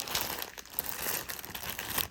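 A plastic bag holding loose embroidery beads rustles and crinkles in quiet handling, brief soft crackles close by with no voices.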